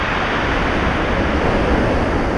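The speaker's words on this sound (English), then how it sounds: "That is so loud, it is really loud, that sea." Loud sea surf breaking on the Sussex coast, a dense, continuous roar of waves with wind buffeting the microphone and no voices.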